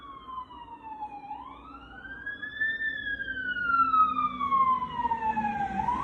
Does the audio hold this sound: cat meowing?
no